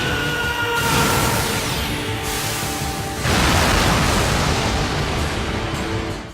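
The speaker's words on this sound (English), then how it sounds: "Despite managing to pull off a win thanks to the biggest explosion ever, Bakugo can't help but feel cheated." Bakugo's Howitzer Impact attack from the anime My Hero Academia unleashes a massive, roaring explosion, a loud sustained blast that surges again midway and rumbles on for several seconds.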